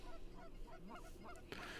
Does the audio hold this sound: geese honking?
yes